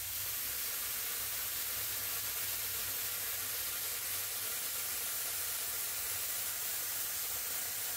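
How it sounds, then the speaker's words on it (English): A steady, even hiss from a spray gun spraying upholstery glue runs without pause, close and constant like compressed air forcing a fine mist. "So what you do is you just spray and let it fan out."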